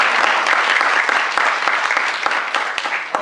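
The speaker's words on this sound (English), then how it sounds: "give a round of applause to you all." Audience clapping at a university event in Valdosta, Georgia, a dense, steady burst of applause from a sizable crowd, loud and close, lasting a few seconds with no talk over it.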